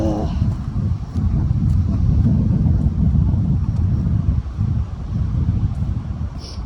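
Strong windstorm gusts roar steadily against the microphone outdoors, a loud continuous low rumble with slight surges and no speech.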